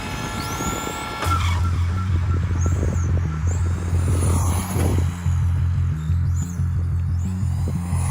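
A stock vintage Traxxas 4Tec 1.0 RC car with a mechanical speed controller takes short full-throttle pulls on a 3S LiPo. A loud buzzing motor whine surges and cuts in repeated bursts nearby.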